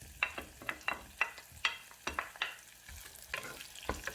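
Onions go into a frying pan while Ghanaian etor is being cooked, giving a faint sizzle broken by a series of sharp, irregular stirring clacks from a utensil against the pan.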